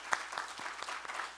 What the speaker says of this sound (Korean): 우리 허봉랑 선교사님 세계 유일하게 한 분밖에 없는 복음에 사신 우리 선교사님 박수 한번